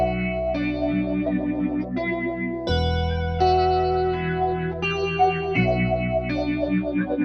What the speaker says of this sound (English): Another interesting plugin from Valhalla would be Freak Echo.